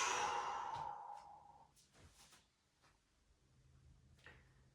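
A long, breathy sigh-like exhale as a yoga practitioner hangs into a forward fold, loud at first and then tapering off, with a few quiet shuffles and knocks after it.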